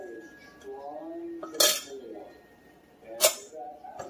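Utensils clatter against a bowl while tuna salad and croutons are mixed, with two sharp clinks separated by quieter scraping and rustling, and a voice speaks at the start.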